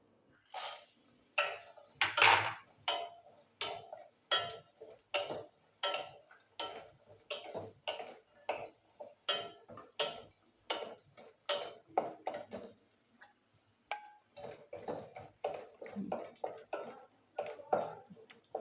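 Lentil dumplings (bori) frying in hot oil in a wok, giving a steady run of sharp crackling pops and sizzling bursts in a quick, uneven rhythm, close and fairly loud throughout with no talking.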